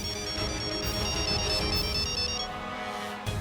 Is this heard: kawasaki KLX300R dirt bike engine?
no